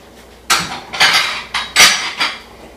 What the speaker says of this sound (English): just go ahead and start stirring, bringing that flour into the buttermilk